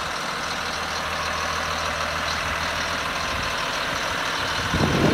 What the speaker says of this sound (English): Caterpillar C7 engine, bus number 129.